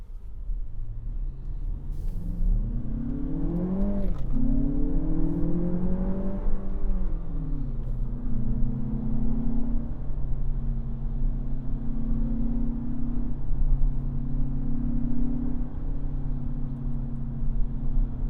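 A 2025 Lexus RX 500h F Sport Performance hybrid SUV accelerating from the cabin, its artificial engine note rising in pitch through two sweeps, then settling into a steady droning hum over road noise.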